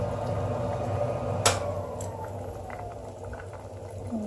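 Spinach boils uncovered in vegetable broth for wonton soup. A steady bubbling simmer runs throughout, with one sharp clink partway through and a few faint drips.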